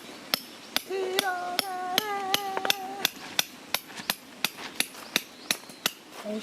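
Hammer blows ring out at a campsite while a shelter is being set up, about eighteen sharp, evenly spaced strikes close by. A brief high whining tone rises over the blows early on.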